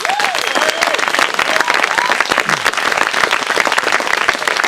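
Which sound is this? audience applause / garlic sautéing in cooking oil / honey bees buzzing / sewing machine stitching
audience applause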